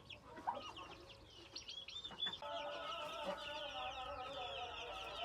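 About sixty month-old chicks, both chicken and turkey, peeping busily with clucking hens mixed in, a dense, continuous chorus of high chirps close by.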